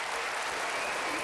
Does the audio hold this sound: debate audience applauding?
yes